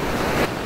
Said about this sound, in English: every once in a while you have one of those rougher waves come in